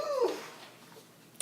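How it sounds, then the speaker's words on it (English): A pet dog whimpers indoors, a short high whining cry at the start that fades, followed by a faint tick near the end. "Sorry, excuse Arthur, my dog."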